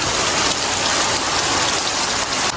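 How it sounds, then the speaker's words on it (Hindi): Heavy rain pours steadily, a dense, loud hiss of water drumming on surfaces with no break and no voices. "बारिश लगी है खतरनाक"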